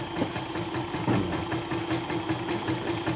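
A serviced portable YOKO embroidery machine runs with a steady mechanical hum and fast rhythmic clatter, even and continuous, close and moderately loud, with no talking.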